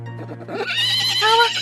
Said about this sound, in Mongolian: Ээжээ, яг л цагаан морь минь босоод ирлээ.